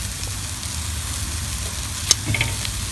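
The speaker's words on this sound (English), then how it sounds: "Just gonna want to flip these over." Meat sizzles steadily on a barbecue grill, a dense, loud, continuous hiss with a sharp click and a brief scrape as pieces are flipped, and no talk.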